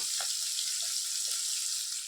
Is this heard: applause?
no